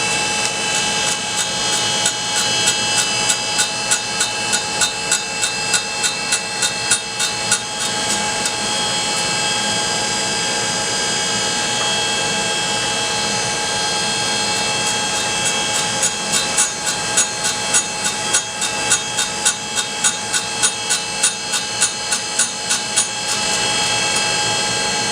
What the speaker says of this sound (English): Nothing fast about a cutter grinder.